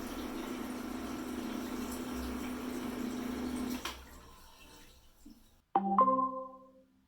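A swimming pool water pump hums steadily at low level, then shuts off, followed by a short series of electronic beeps.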